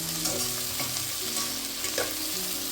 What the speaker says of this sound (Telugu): ఇప్పుడు ఆనియన్స్ వేగాయి కాబట్టి టమాటాస్ వేస్తున్నాము